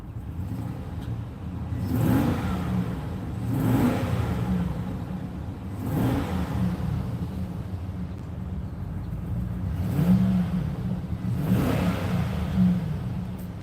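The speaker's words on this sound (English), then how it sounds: "let's give her some revs here." Car engine revved repeatedly while in park, several distinct rising revs spaced a couple of seconds apart over a steady low idle rumble, close and moderately loud, no talking.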